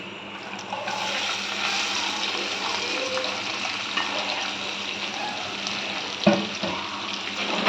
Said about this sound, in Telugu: ఇప్పుడు ఫ్రై చేసుకోవాలి